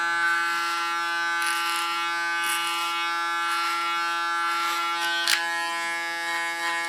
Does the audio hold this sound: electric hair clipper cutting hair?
yes